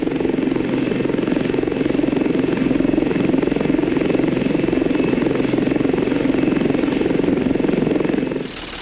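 Westland Lynx helicopter at first liftoff, its rotor and turbine engines giving a loud, steady, close whine and throb that holds evenly, then drops away sharply near the end.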